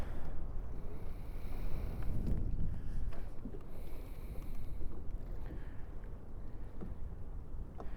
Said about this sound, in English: The wind, of course, picked up.